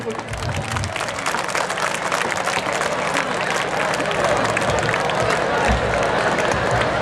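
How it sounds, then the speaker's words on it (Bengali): A crowd under a pandal applauds to welcome the chief guest at a reception ceremony, with loud sustained clapping and some murmuring voices that continue without a break. "আমরা করতালি দিয়ে তাকে অভিনন্দিত করি"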